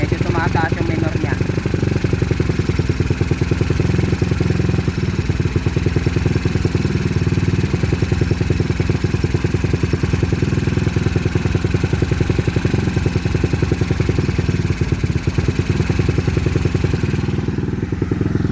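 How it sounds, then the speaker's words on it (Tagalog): A motorcycle engine fitted with a 28mm PWK flat-slide carburetor idles steadily at close range while warming up, a low rumbling putter with light mechanical clatter, running continuously without revving. "Painitin lang natin ng konti yung makina"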